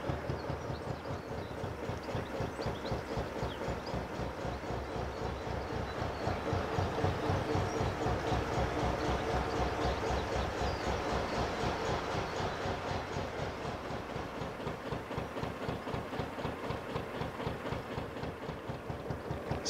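A train rolls past a narrowboat mooring beside a railway line, with a steady rhythmic clickety-clack of wheels over rail joints that stays close and loud throughout, without voices.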